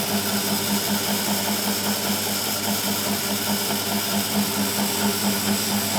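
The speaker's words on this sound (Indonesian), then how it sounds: "ketika kita mengubah polaritas di valve winding itu akan berpengaruh terhadap putaran motor" A universal motor runs steadily with its field winding polarity reversed, making a continuous, fairly loud mechanical whir and hum. Harmonic tones hold throughout, with no voices.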